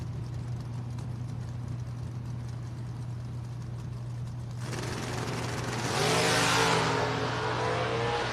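Dragsters on a drag strip at a racing event accelerating hard, a steady distant engine drone swelling into a loud roaring rise as the cars launch and pass.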